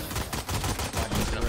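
Rapid gunfire in a tactical shooter video game, including a headshot, sounds as a dense, loud burst of repeated shots over busy game noise.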